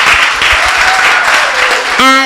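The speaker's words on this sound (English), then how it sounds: "let's give them a round of applause again" A crowd at a youth forum applauds the MPs attending, a dense, loud burst of clapping that fills the whole moment and ends in a brief cheer or whistle.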